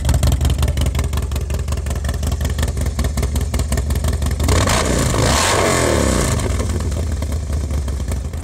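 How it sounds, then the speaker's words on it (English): Harley-Davidson Lowrider S motorcycle fitted with new performance cams, its V-twin engine loud and close, rumbling steadily then revving hard midway before settling back to a throbbing lope. "So definitely ride a bike with the cams. You know, it makes a major difference with the sound of the bike too."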